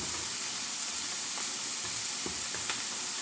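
Egg and onion stalks fry in a pan with a steady bright sizzle, while a spatula stirs them in a few soft scraping taps and no one speaks.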